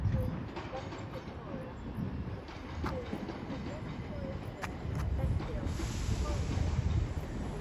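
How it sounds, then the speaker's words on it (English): A Southern passenger train pulls into Hastings station, a steady rumble and hiss with faint clicking of wheels on rails that swells slightly toward the end, heard over ambient platform noise. "Arriving now is the 12:25 Southern service to London Victoria from Orr."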